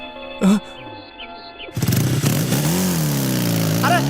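A motorcycle starts up and is ridden away: after a short quiet stretch the engine suddenly roars into a loud, steady revving drone that stays close, with a brief voice before it.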